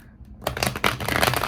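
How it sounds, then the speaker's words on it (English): Tarot cards being shuffled nearby, a quiet start giving way to dense, continuous riffling and slapping of the deck. "I'll shuffle while I talk to y'all"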